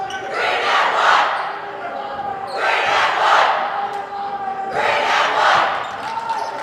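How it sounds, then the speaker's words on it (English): Crowd at a varsity boys basketball game roars in three big swelling waves of cheering and shouting, loud and close, with the bounce of a ball faintly under the noise. "Crowd seems to be going wild."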